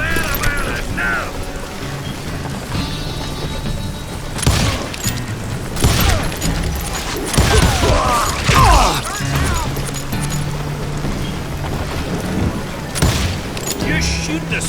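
Gunfire in the Western shooter game Call of Juarez Gunslinger, loud repeated shots and crashing impacts in bursts over a busy game soundtrack, with a character shouting.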